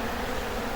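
Honey bees buzz around honey frames that have been uncapped and extracted, a steady close hum with no talking, during a honey harvest.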